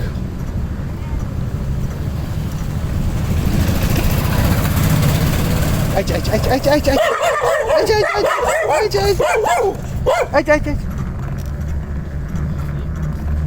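Several street dogs in Nepal bark and yip in short, loud bursts close by, heard from a moving electric bicycle amid steady road and traffic noise, with voices talking over it.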